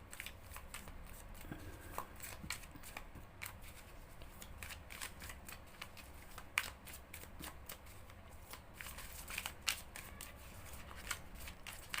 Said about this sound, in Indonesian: Dan kita shuffle kartunya.